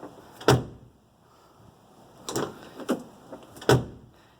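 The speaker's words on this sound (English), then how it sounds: "let's close this door and see how it works" Door of a 1985 Mercedes 300CD swinging shut three times, each a solid thud with a metallic latch click, close and clear with quiet gaps between.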